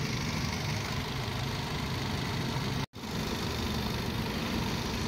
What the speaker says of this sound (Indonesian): Ini kondisi mesinnya, jadi kondisi aman semua, nggak ada suara macam-macam, jadi suaranya masih normal.